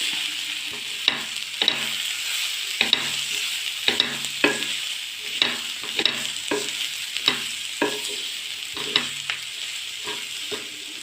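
Egg mixture with spice powder frying in a pan while a spoon stirs it, steady close sizzle with frequent sharp scraping strokes in an irregular rhythm, no voices.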